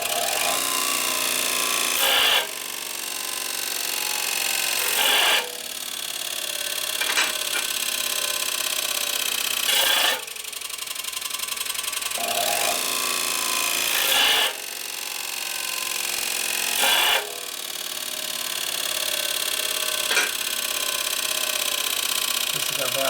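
An angle grinder with a fine 180-grit disc grinds on a 1972 Harley-Davidson XL Sportster 1000cc ironhead engine part, in repeated bursts of harsh rasping a few seconds long separated by short pauses, loud and close.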